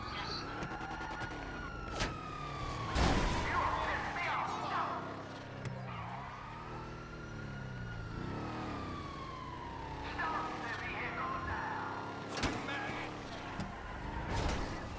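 Police car sirens wail in a destruction-themed driving video game, rising and falling tones repeating through the clip under engine noise, scattered crashes and excited players talking over them.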